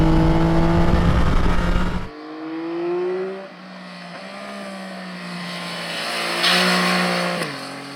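A 2025 Yamaha Tracer 9 GT Plus motorcycle is ridden, loud wind buffeting giving way to a steady engine drone whose pitch rises and falls with throttle, close-up.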